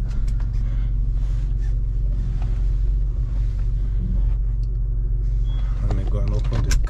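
A car backs up with its engine rumbling low and steady throughout, heard from inside at close range while someone talks over it.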